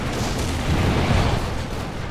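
A bombing run in Command & Conquer Red Alert 3 brings a steady, heavy rumble of explosions, loud and continuous with no single distinct blast.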